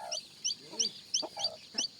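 Chickens cluck in short, quiet bursts, about half a dozen soft calls spaced evenly apart with no voices over them.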